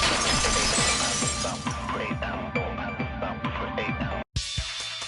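A ceramic vase shatters, followed by a dense spray of breaking pieces and clinking fragments scattering over several seconds, loud and close, then a brief drop to silence and a final burst of debris.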